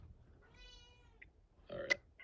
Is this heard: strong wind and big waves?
no